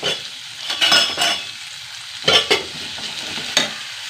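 Onions sizzle steadily in a hot pan for chutney while a utensil scrapes and stirs in a few loud bursts.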